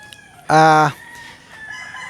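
A single loud, close gamecock crow bursts out briefly, followed by quieter background bird calls.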